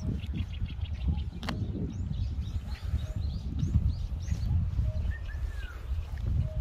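Birds chirp and call in a park in Jindo, with faint, brief tweets and short whistles scattered over a steady low outdoor rumble, with no talking.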